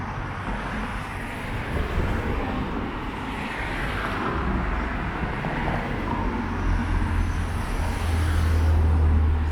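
Road traffic passes along a street beside Bushy Park near Hampton Court Palace in London. A continuous roar of vehicles swells and recedes, with a heavy low rumble building toward the end and no voices.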